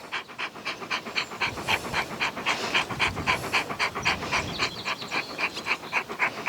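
A dog pants close by in a steady, quick rhythm of breathy in-and-out puffs, continuous and fairly loud, in a backyard garden during July in zone 3.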